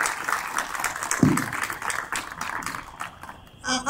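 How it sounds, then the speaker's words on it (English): Audience applause for three guest speakers at a public talk on the Alamo, a moderate scattered clapping that fades over a few seconds before a voice cuts in at the end. "Please give them a round of applause."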